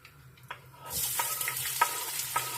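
Onion and a half spoon of flour frying together in a pan for a meatless soup, quiet at first, then a sudden close sizzle that swells and holds with light stirring clicks.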